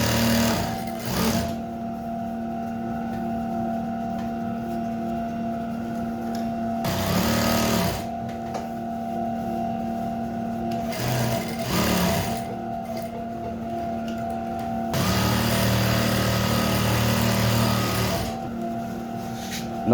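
A sewing machine top stitching a trouser pocket runs in steady whirring bursts, with louder stretches of continuous stitching around the middle and end separated by quieter pauses, close by and alone.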